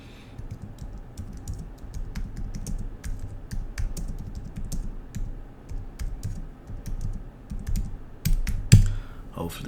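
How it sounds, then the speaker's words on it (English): Typing on a computer keyboard, a steady run of quick clicking keystrokes close by with brief pauses, ending in a louder burst of clatter. "Let's type it in."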